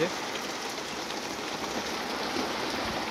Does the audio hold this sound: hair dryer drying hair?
no